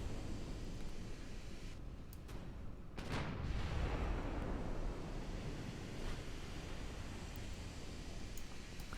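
A naval gun fires in the Ultimate Admiral: Dreadnoughts warship game, one heavy boom rolling out over a constant wash of sea and wind noise, distant and low, with no talking.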